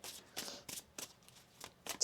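Tarot cards are shuffled in quick, crisp riffling bursts, about seven short rustles in close succession, heard near and quiet with no talking.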